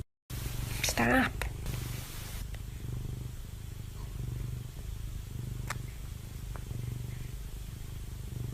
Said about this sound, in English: This person owns an overly aggressive romantic cat.